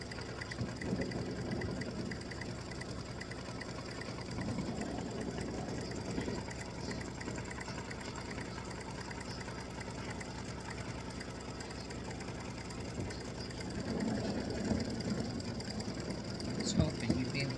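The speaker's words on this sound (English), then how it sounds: "now it's just doing the satin stitching to emphasize the grid" An embroidery machine satin stitching a Halloween tic tac toe grid, a steady low mechanical hum and rapid stitching rattle running continuously, with a voice talking over it.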